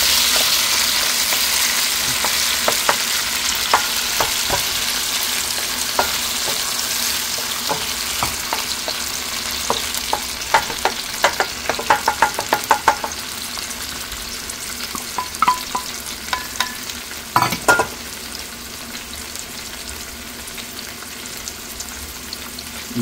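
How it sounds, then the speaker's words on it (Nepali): Tomato pulp fries in a hot pan over high gas while making chicken chilli jhol momo, giving a steady, close sizzle throughout with scattered scraping and clicking from stirring that grows busier midway. "यसलाई पनि म हल्का फ्राई गर्छु।"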